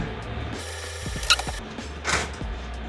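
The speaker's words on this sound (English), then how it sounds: "You're just going to use your screwdriver for these guys" A hand screwdriver drives cam screws into an IKEA Sektion corner kitchen cabinet. Close, soft ratcheting clicks and a few sharp knocks come in short bursts, with brief scraping between them.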